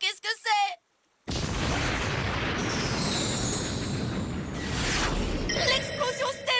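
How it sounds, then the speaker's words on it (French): Pegasus's Star Blast from the Beyblade Metal Fusion anime erupts as a sustained roaring explosion with a high whooshing shimmer that swells and then breaks off, framed by short bursts of dramatic voices before and after. "L'explosion stellaire de Pegasus!"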